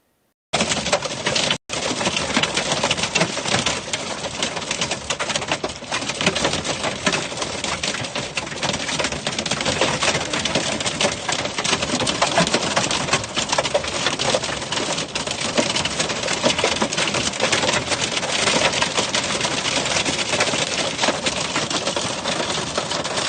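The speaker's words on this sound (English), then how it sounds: "Super loud hail. There was a lot of that high volume hail across Denver." Loud hailstorm in Aurora near Denver, a dense, steady clatter of hailstones pelting surfaces close by, continuous and undiminished throughout with no voices.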